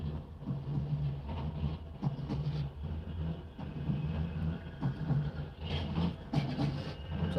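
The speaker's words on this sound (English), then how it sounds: "That's a double tram." A double tram in Manchester rumbles steadily nearby, heard from inside a car on a very wet day, its low drone mixed with rain and road noise throughout.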